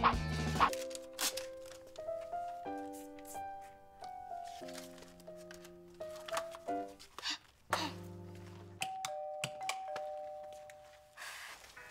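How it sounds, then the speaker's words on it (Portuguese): Doorbell rung again and again, a series of clear electronic chime tones in changing pitches, separated by brief knocks and rustles in a quiet indoor room. "alguém estragando a campainha"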